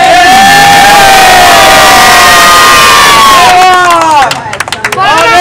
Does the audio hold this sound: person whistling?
no